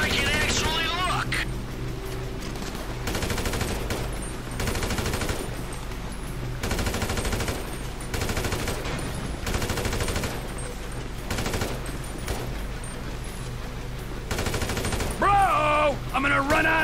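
Rapid automatic gunfire rattles almost continuously during a train robbery in GTA 5, loud and dense with short breaks, while a voice talks over the shooting.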